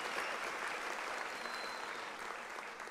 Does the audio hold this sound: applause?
yes